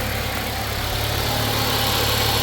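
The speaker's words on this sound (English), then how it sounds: "And the compressor is on." A car engine idling steadily under the hood with the A/C compressor running, a loud continuous hum and rumble heard close with no break.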